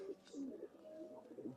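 A Benaras pigeon coos in a short, close, steady run of soft throaty notes, with a few faint background sounds around it.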